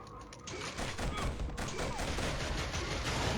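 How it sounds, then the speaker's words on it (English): A sentry gun fires in the video game Killzone, a dense burst of rapid, overlapping gunfire that builds after a brief lead-in and then rattles on loudly and continuously with no talk. "And there's the sentry gun I could hear."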